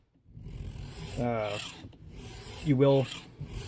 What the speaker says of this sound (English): You're gonna let the file do the work.